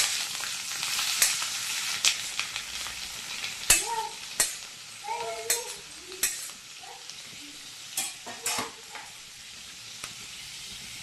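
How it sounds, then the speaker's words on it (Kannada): Onions and curry leaves frying in hot oil, a steady close sizzle and crackle with intermittent stirring scrapes and spoon knocks against the pan over about eleven seconds. "ಈಗ ಇದು ನೀರುಳ್ಳಿ ಫ್ರೈ ಆಗ್ತಾ ಬಂತು."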